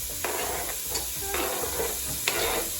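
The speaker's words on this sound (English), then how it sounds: "we've put in the carrots, they're sizzling away, and now the celery is going in" Carrots and celery fry in a pot with a steady sizzle and occasional stirring scrapes and clatter, close by, no voices.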